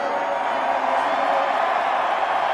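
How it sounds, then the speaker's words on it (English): A large crowd at the Mexico Formula One Grand Prix roars in a sustained, dense wall of cheering and whooping, loud and continuous throughout. "What do you think of this crowd?"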